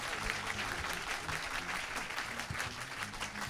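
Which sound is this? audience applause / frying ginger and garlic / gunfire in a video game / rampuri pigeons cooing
audience applause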